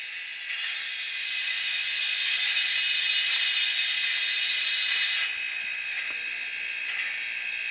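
The injector sound of an ESU LokSound decoder in a 2024 Rivarossi HO scale Allegheny 2-6-6-6 steam locomotive gives a steady, airy hiss that rises, holds for several seconds and then eases off, heard alone.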